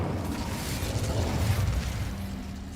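A fiery spell blast in a magic-themed video game, a broad roaring burst with a whooshing rush that swells and holds steady, loud and close.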